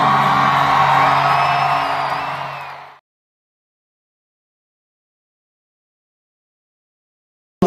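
A big concert crowd in Sydney whoops and cheers loudly for about three seconds, then cuts off abruptly into silence, with a brief burst at the very end.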